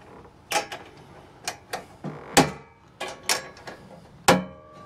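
2021 Ford Bronco tailgate folding table being folded shut, a series of close metallic clicks, clunks and knocks in an irregular rhythm, with a few sharper latching impacts.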